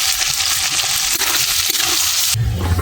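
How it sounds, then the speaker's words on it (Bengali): Onions fry in oil tempered with cumin and chili, giving a loud, close sizzle with scraping stirring sounds. The texture shifts briefly near the end. "এই দেখুন পেঁয়াজটা আমার অর্ধেক ভাজা হয়ে গেছে"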